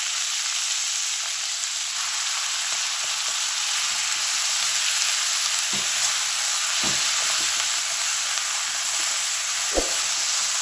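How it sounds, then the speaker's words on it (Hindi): Minced meat fries in a little oil with cumin, producing a dense, constant hiss of sizzling with occasional faint spoon knocks and scrapes, close and without voices. "अब यहाँ पे कीमा डाल देंगे।"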